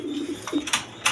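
Male racer pigeons give a few soft, low coos up close, followed by brief brighter rustles or wing flicks in a quiet loft.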